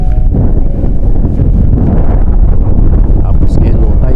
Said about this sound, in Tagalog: kasi habagat ang hangin dito sa area namin